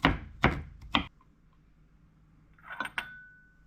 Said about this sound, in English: I mince the garlic like this, small pieces